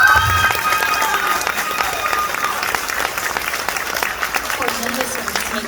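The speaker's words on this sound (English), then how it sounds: "I think they deserve a big round of applause." Audience applause at a speech event, a steady wash of clapping that starts loud and holds for several seconds.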